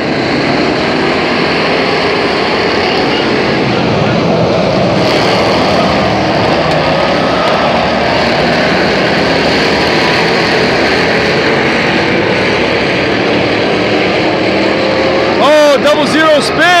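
Pure stock race cars at Flomaton Speedway roar loudly and continuously through a restart in a feature race, a dense wall of engine noise that swells as the pack passes close by.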